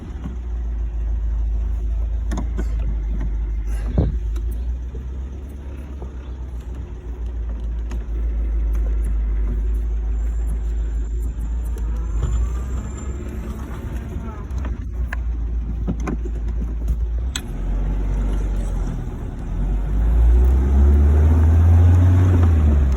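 A 1966 Citroen DS21 Chapron convertible drives along with a steady low engine rumble and buffeting wind noise, swelling louder near the end.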